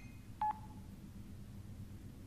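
A single short telephone dial tone beep sounds once in the X-Files video game, clear but quiet over a low ambient hum, with no voices.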